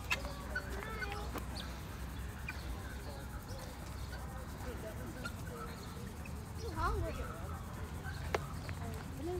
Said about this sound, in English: See the guinea hens?